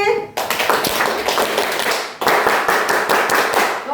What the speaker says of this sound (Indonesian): Tepuk konsentrasi dulu.